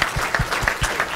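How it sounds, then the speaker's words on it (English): Applause for a presenter at an investment stock pitch session, short and steady, with a few louder individual claps standing out over the audience's clapping. "Let's give John a round of applause."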